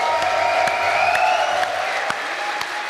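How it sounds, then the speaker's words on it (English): Audience applause at an esports series final, a dense steady clapping crowd with scattered cheers, loud and close throughout. "But once again, a round of applause for Lirry, your victor of the series."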